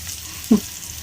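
Mustard seeds hit hot oil for tempering, giving one sharp, brief sizzling burst midway, with quiet frying hiss before and after.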